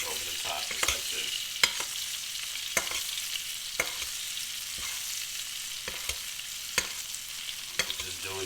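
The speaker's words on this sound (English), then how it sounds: "you're going to baste the steak in the butter over the top, just like this." A grass-fed ribeye steak sizzles in butter in a pan while being basted, a steady frying hiss punctuated by regular sharp clinks of the spoon against the pan roughly every second, close, with no talk.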